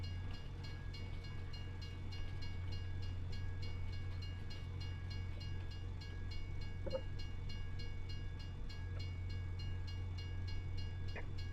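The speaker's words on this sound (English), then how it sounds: "Classic Deltic engine." A Deltic-engined diesel train passes in the Farming Simulator 25 video game: a steady, heavy low engine drone with a rhythmic clatter of wheels running on throughout, heard alone without any voices.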